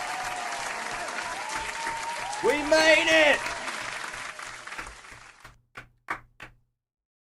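Rapid hand clapping from a single person, steady at first and then louder in the middle, under spoken talk, ending in a few sharp separate claps before silence.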